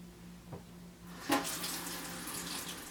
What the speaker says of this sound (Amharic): እጄን እታጠባለሁ